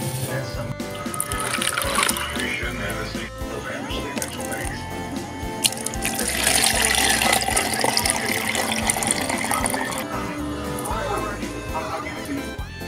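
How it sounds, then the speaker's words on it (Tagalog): Coconut milk is poured into a seafood dish, a continuous liquid splash and trickle running throughout, with someone talking over it. "Lagyan ko siya ng gata."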